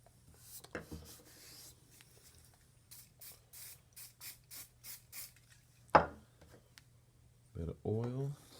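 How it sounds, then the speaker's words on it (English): A metal garden pruner blade is lapped flat on a sharpening stone, giving a series of about eight short rhythmic scraping strokes, faint and close, with a sharper clack and brief handling noises afterward. "let's flatten this side on the stone, which is really kind of like lapping"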